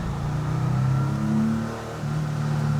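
Porsche 911 engine revving while driving, a steady mid-pitched engine drone that rises and dips with throttle, heard from inside the car without talk.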